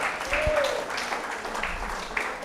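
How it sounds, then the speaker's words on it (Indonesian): Church congregation clapping for one another during a Sunday sermon service, a steady wash of applause mixed with overlapping voices and murmurs, fairly close and even in loudness. "Tepuk tangan buat satu sama lain"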